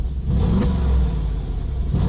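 Mansory Mercedes-AMG G63 engine in comfort mode with exhaust valves closed, giving a couple of quick throttle blips: a loud, close rumbling rev that swells and eases, alone with no talk.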